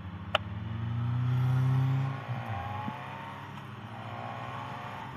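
Motorcycles, among them a BMW S1000R and a Yamaha MT07, on a group ride to the Sorpesee pull away with a rising engine drone that swells and then fades into steady road and wind noise, with no voices.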